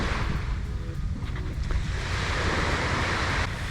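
Steady broadband wash of surf on a beach in St. Maarten, continuous and fairly loud with wind noise across the microphone and no clear voices.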